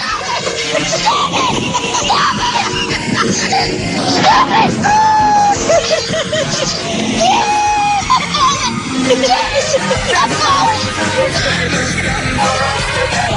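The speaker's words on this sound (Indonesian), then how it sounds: "Seorang anak laki-laki bertubuh tabun terus-menerus berteriak ketakutan pada ibunya" A heavyset boy screams in fear to his mother on an amusement ride, loud continuous yelling and shrieks over the rumble of the ride and crowd noise.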